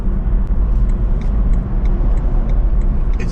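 Steady road rumble of a BMW i3 electric car cruising on the motorway, a continuous low drone with tyre and wind noise and no voices.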